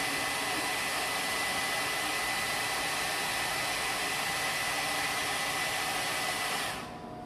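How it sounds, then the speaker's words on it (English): A hair dryer blows in a loud, constant rush of air close by, speed drying wax, then switches off at the end. "So again, I'll use blow dryer real quick. Speed dry."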